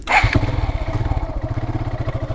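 A motorcycle starts up close by and settles into a steady, rhythmic idle with a throbbing putter.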